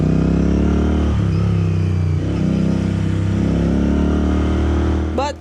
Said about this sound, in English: Unless you're Shaf, your engine sound alone can't be the soundtrack to your whole vlog